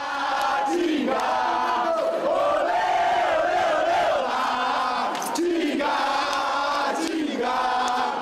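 Cruzeiro football fans greeting a player at Confins airport in Belo Horizonte before dawn, a large crowd chanting loudly in rhythmic, sustained unison with rising and falling calls.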